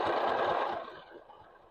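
A mini sewing machine stitches a zigzag, a short fast whirring run of the motor and needle that winds down and fades after about a second, close and alone.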